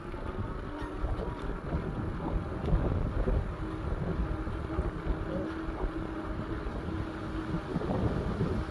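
A Fucare Scorpio Sport electric bike riding on throttle only at pedal-assist level 1 brings steady, buffeting wind rush across the microphone, a continuous low roar with no talk.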